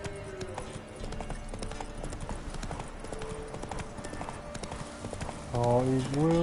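A horse gallops in The Witcher 3, its hooves a rapid, steady clip-clop under a voice talking over the game, with a short rising whinny-like tonal sound near the end.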